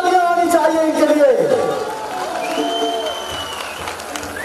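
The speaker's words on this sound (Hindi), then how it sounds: "जोरदार तालियां आनी चाहिए इनके लिए।" Crowd applause at the Ladarcha Festival 2022 in Spiti Valley, Himachal Pradesh, rising under a loud amplified announcer's voice and tonal music, then thinning as the talk carries on.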